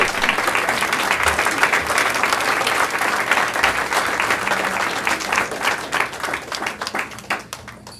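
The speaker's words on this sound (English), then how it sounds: "Let's give those students a round of applause." An audience at a school board of trustees meeting applauds a group of students. The clapping is sustained and fairly loud, a crowd of hands that thins and fades toward the close.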